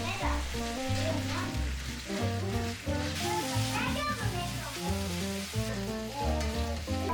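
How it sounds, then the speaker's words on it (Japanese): Bacon and asparagus stir-frying in plenty of olive oil, a steady close sizzle with a voice and background music over it. "オリーブオイルをたっぷりと入れて炒めます。 まずはベーコン、 続いてアスパラガス、"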